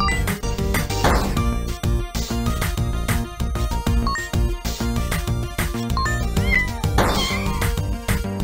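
A cat in the video game Wyndragon's Tales gives two distinct meows, one early and one later, each a wavering whiny call standing out over steady, busy background music.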